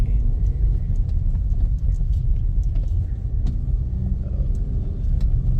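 Maruti Brezza car engine with a reported bad sound, before an overhaul, producing a close, continuous low rumble that swells and dips slightly as the accelerator is worked.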